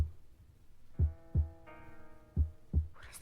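Slow heartbeat thuds in lub-dub pairs, about four low pulses over a sustained hum and swelling tonal drone, with no talk.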